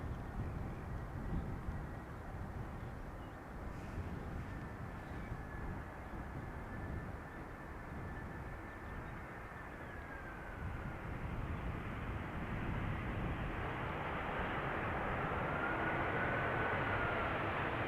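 A jet airliner on approach to runway 18R at Amsterdam Schiphol drones in from a distance, with a whining engine tone that slowly bends downward. The rumble swells louder toward the end as the plane passes nearer.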